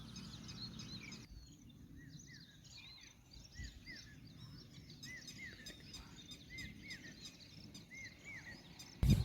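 Repeated short whistled bird calls, said to sound like "perte vha," ring out at moderate distance over a soft outdoor hiss on a morning at a new place, with faint insect-like buzzing beneath and no talking.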